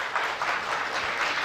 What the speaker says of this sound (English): I request the audience to please give them a round of applause as we welcome them on